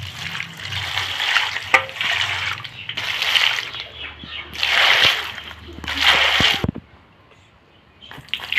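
Raw mangoes being rinsed under running water, with bursts of splashing and sloshing in several loud waves, then a quieter pause near the end.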